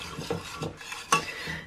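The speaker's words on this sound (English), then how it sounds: "just kind of give everything a mix through together" A spoon stirs ricotta, vanilla and other ingredients together in a bowl, a few short scraping and clinking strokes in uneven rhythm, close and fairly quiet, with no voices.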